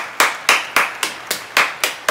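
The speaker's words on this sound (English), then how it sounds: "a round of applause for you" A single person claps their hands alone, close to the microphone, giving eight crisp, evenly spaced claps at a steady moderate pace with short decays between them.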